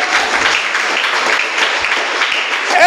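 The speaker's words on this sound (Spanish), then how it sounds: "¿Alguien puede dar un fuerte aplauso y vivir delante del Rey?" Loud, dense applause from a church congregation during a Spanish-language sermon, a steady wash of many hands clapping close and full throughout with no talk over it.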